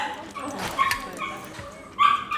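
Dog in an animal shelter whimpering and yipping in short, thin cries, fairly close, with faint background noise around it.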